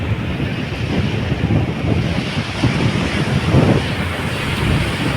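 Sea waves at Arnala Beach in Virar roll in as a continuous surf roar mixed with strong wind buffeting the microphone, loud and unbroken.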